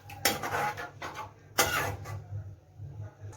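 Chopped jackfruit dropped into spiced masala cooking in a pan, giving two loud clattering impacts of pieces and spoon against metal, followed by quieter scraping and faint sizzling.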